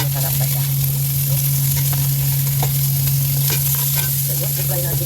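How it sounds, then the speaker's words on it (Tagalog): Ingredients for kare kare frying in a pan, a loud steady sizzle close up with stirring and scraping sounds running through it and no talk. "I-fry natin ng konti para naman sa ganun matanggal yung lansa"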